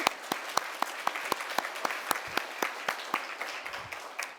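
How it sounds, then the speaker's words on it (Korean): Congregation clapping during a Sunday worship service in a church, fairly sparse hand claps with distinct individual strikes in a loose, uneven rhythm, moderately loud and without talk. "다시 한번 박수 돌리겠습니다."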